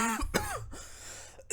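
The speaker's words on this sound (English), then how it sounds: "Bro, immediately coughs." A single throaty cough near 0.35 seconds, loud and close, cut off abruptly, followed by quieter voice-like sounds and room noise from someone recording a voiceover for a GregTech New Horizons game session.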